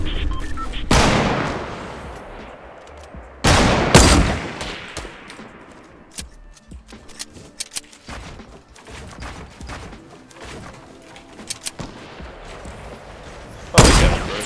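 Gunfire in the Fortnite battle royale video game, duos mode, with sharp loud bursts near the start, around the four-second mark and at the end, and fainter scattered shots in between.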